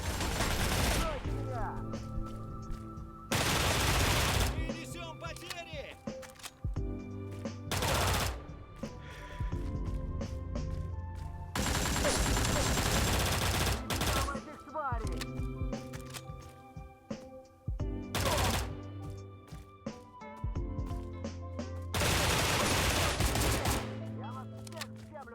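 MAC-10 submachine gun in the game STALCRAFT, fired in repeated loud full-auto bursts of a few seconds each, separated by short pauses, close and dominant throughout.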